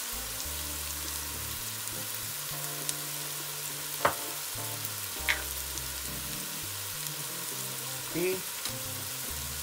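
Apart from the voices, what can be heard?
vegetables toasting and sizzling in a pan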